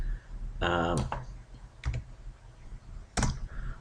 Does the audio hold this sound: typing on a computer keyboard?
yes